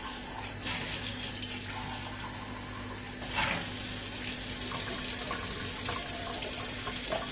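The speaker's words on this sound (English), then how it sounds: "I might as well wash out my cup on here" Steady rush of running tap water as a cup is rinsed out at a sink, close and continuous, with faint splashing changes midway and no talking.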